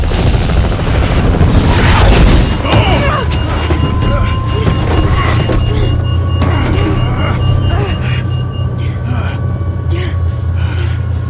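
A deep, rumbling nuke blast in Resident Evil 3 swells and rolls on, joined by whooshing engine-like drones and scattered electronic tones, loud and sustained throughout.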